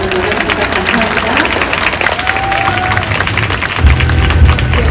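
Film festival audience in Busan applauds the director and actors, a continuous wash of clapping with a low rumble and a louder burst near the end, while people talk through it.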